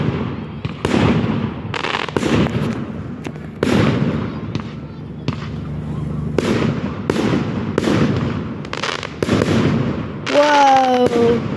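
Fireworks over Saltford burst repeatedly, a series of sharp loud bangs and crackles at irregular intervals, with excited voices reacting between explosions and a whistling rocket near the end.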